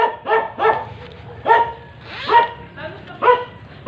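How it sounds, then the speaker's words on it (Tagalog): A dog barks repeatedly at close range, about six sharp barks at irregular intervals with a quieter background between them. "May aso."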